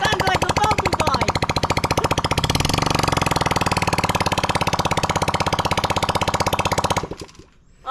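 A WK Bikes 50cc scrambler engine runs with no exhaust fitted, a loud, rapid buzzing rattle of evenly spaced firing pulses that holds steady for several seconds before cutting off, leaving near silence.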